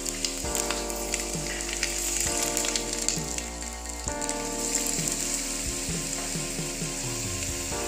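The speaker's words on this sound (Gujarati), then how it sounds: "આપણું તેલ ગરમ થઈ ગયું છે તો હવે આપણે એમાં જીરું અને લસણની કળી નાખીશું" Cumin seeds and garlic cloves dropped into hot oil while cooking palak aloo sabzi, a loud continuous sizzle with crackling spatters, joined by rhythmic mechanical whirring and clicking, no voices.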